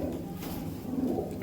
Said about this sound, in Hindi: बड़े साइज में ज़बरदस्त कबूतर ये रहा